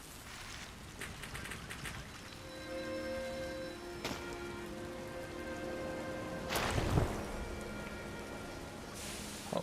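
Steady rain pours down in the video game Sky: Children of the Light, a dense continuous hiss of drops with faint musical tones layered underneath and a brief louder swell midway.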